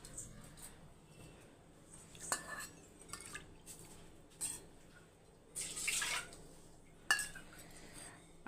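Water is poured into a pot of soaked rice in a home kitchen, heard as faint intermittent splashes and trickles with a few light clinks of a vessel, quiet and close.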